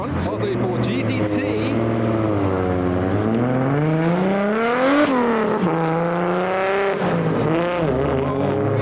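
A Nissan Skyline R34 GTT drives by on a road among other cars, its engine note rising and falling in a steady, fairly loud drone that swells near the middle as it passes close.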